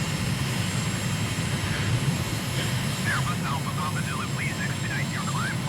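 A steady aircraft engine drone fills a Microsoft flight simulator flight over Ashgabat, Turkmenistan, continuous and fairly loud, with a faint warbling tone layered in toward the end.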